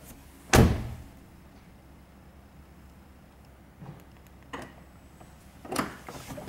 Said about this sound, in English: We have powered sliding doors.